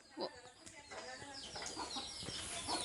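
A chicken clucking on a house rooftop in a village, on a cloudy day. Several short clucks come through at moderate distance over a steady outdoor background.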